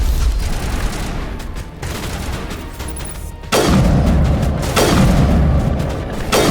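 Rifle fire in Mass Effect 1 bursts out in loud, booming volleys, one long run early and another heavy stretch after a brief lull, dense and close throughout with no talking.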